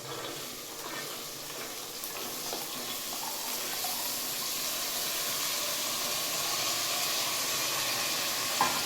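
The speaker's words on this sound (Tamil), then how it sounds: "இப்போ வந்து காயெல்லாம் போடலாம் பாருங்கள்." Beans, carrot, potato and knol-khol hitting hot oil in a frying pan give a steady, close sizzle that stays loud and even throughout, with faint stirring underneath.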